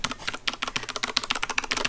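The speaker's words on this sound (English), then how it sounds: "She's gonna bang on your keyboard." A baby presses and bangs on computer keyboard keys, producing a rapid, irregular clatter of close, crisp key clicks that continues steadily without talking.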